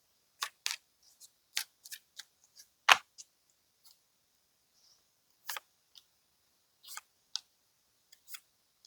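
Tarot cards are shuffled and handled in a quiet room, giving sharp, isolated flicks and snaps in irregular bursts, with one louder slap and long silent gaps between.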